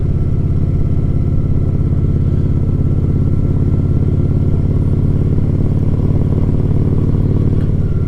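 A Shadow motorcycle engine runs steadily and loudly at a low, even rumble for the whole stretch, with no clear revving and no voices.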